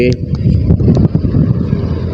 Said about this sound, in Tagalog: Yung hangin. Talagang malakas itong parating na ito.